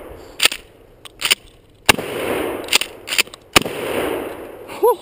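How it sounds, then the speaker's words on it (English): Gunshots fired at a watermelon target outdoors: about six sharp, loud reports spaced irregularly over several seconds, each with a short echoing tail, with faint background noise between them. "Some more watermelon shots."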